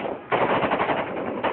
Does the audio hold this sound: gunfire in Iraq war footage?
yes